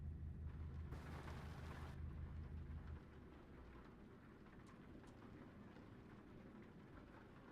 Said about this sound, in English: I like the sound of the rain in this.